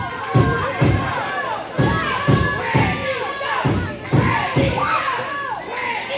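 Fans at an NWF tag team title wrestling match featuring the Riot Squad cheer and shout, with a loud crowd roar swelling in repeated bursts alongside thumps and a commentator talking.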